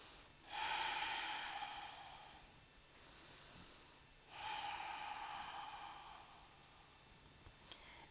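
Two slow, deep breaths taken during a seated yoga stretch, each a long, close, airy inhale that eases into a softer exhale, with quiet pauses between.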